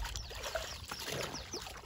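A net rinsed in creek water gives shifting, continuous splashing and sloshing, steady and fairly close, with small trickles and drips running throughout and no voices.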